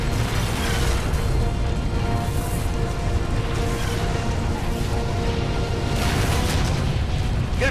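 Incoming LRM missiles pound a hangar in a MechWarrior game cinematic, producing a dense, continuous roar of explosions and crashing debris that stays loud and close for the whole stretch.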